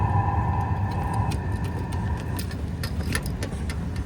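Diesel heater running with its muffler removed, a continuous rough rumbling hum with faint ticking and rattling on top, steady and close.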